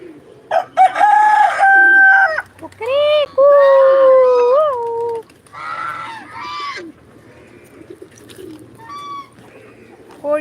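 A rooster crows loudly and close by, several calls in succession, with other fowl clucking and pigeons cooing in between.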